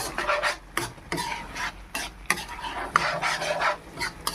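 Coconut cream mixture is stirred in a pan in quick, scraping strokes that repeat in an irregular rhythm, close and clear, with faint sizzling underneath and no voices.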